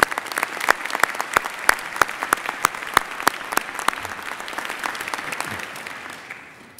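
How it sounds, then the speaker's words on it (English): Audience at a university convocation claps in a crisp, steady round of applause, moderately close, tapering off near the end without talk. "please join me in a round of applause in recognition of his remarkable accomplishment"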